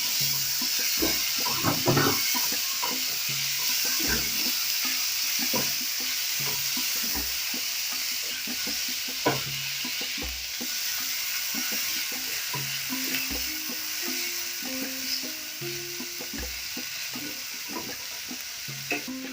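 Tomatoes, capsicum and coriander stems fry in a pan for a fish curry, with a steady close sizzle broken by repeated stirring scrapes and clinks.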